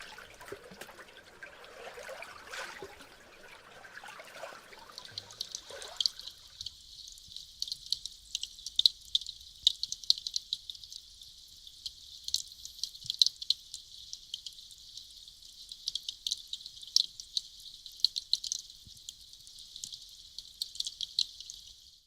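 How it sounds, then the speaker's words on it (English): Glacial ice releases air bubbles underwater, caught on a hydrophone as dense crackling, popping and fizzing ticks in an irregular, continuous patter, quiet at first, then steady and close for the rest. "here's a hydrophone recording of glacial ice and air bubbles being released back into the atmosphere"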